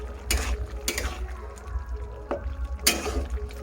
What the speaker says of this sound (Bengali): এটা নাড়িয়ে দিই তরকারিটা